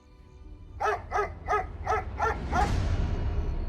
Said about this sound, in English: I heard Jupiter bark in the middle of the night